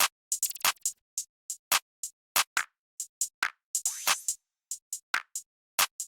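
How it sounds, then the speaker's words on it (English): Two open hi-hat samples alternate through an FL Studio beat: crisp, hissy metallic hits with short decaying tails, one longer washy sizzle midway, played in a busy syncopated pattern with silence between strikes. "Now there's 2 different open hats,"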